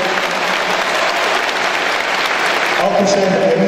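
Audience applause at a live stage show with an LED screen, dense and steady clapping filling the space, loud and close throughout, with a voice coming in near the end.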